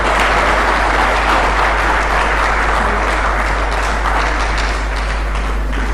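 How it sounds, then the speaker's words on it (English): An audience at a Ghanaian nation-building economic update event applauds steadily and loudly, a dense wash of clapping with a low steady hum underneath. "Please give another round of applause."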